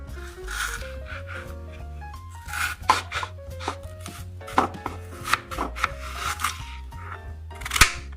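Potatoes are cut into cubes on a board, giving a series of sharp, irregular knife chops over background music.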